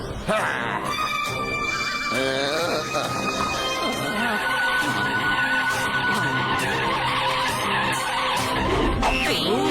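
A cartoon car skids and races off with screeching tire squeals and swooping effects, loud and busy over a lively animated soundtrack with bright tones.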